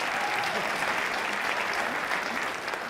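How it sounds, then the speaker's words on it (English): Town hall audience in Silverthorne, Colorado applauds the Dillon and Breckenridge mayors: dense, steady clapping from many hands that holds at an even, close level throughout and dips only slightly at the very end. "Let's give them a round of applause as well."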